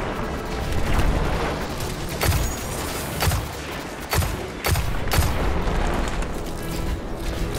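Grenade explosions and gunfire in Destiny 2 during the Inverted Spire strike, loud and near, with a series of sharp blasts and shots spaced every second or so over continuous battle noise.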